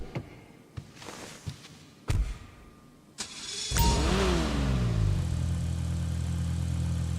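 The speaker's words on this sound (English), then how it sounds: "Let's take a listen to the startup and engine sound right now." A car in the video game GTA 5 gives a few sharp clicks and thunks, then its engine cranks and starts and settles into a steady, moderately loud idle.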